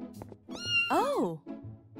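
A cartoon cat in an animated kids' show gives a drawn-out, wavering meow in the middle, loud and close, with short thumps and bits of other cartoon sound before and after it.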